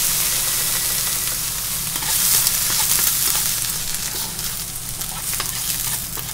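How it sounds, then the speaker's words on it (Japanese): Wieners frying in oil in a coated frying pan give a close, bright sizzle with crackling pops that swells partway through, and no one speaks. "この油でウインナーを焼いていきます"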